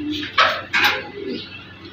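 Pigeons coo in a racing pigeon loft, several soft throaty coos rising and falling close by in short bursts, with no talk over them.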